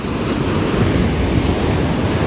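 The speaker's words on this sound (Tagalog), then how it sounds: "Malaki kasi ng alon." Big ocean waves at a surf beach in La Union: a loud, continuous roar of breaking surf mixed with wind buffeting the microphone, close and unbroken throughout, no voices.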